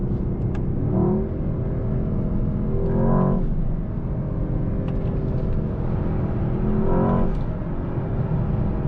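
A 2024 Mercedes-AMG S63 V8 engine and exhaust revs in repeated rising pulls about every two seconds over a steady low rumble, with faint sharp pops on top.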